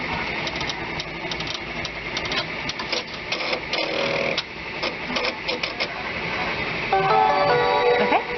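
An Enterprise 10-needle embroidery machine stitches a satin-stitch border on an applique, a steady rapid mechanical whirr and clatter running throughout, growing a bit louder and adding beeping tones near the end.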